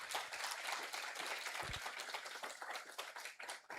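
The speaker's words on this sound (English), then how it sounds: "we should give all of you a round of applause" Applause from a crowd at a community hero awards ceremony: continuous dense clapping with a few sharper individual claps standing out, steady and moderately loud, with no voices over it.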